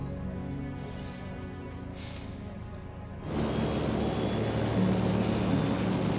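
An airliner, Flight 518, taking off: a low engine hum and rumble that steps up suddenly midway into a louder, broadband roar of thrust, heard from inside or near the aircraft.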